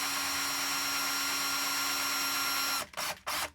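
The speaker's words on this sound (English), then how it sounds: "to use the 1/16 drill bit to make that hole deep enough" A small power drill running steadily with a 1/16 inch bit boring a hole into a Hot Wheels axle, a sustained whine that cuts off near the end with a couple of brief restarts.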